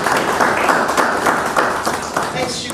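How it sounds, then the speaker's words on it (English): Applause from an audience at a breakfast business meeting as a speaker takes the floor: a steady, moderately loud run of clapping over a few seconds with voices mixed in underneath. "A round of applause as she takes the floor."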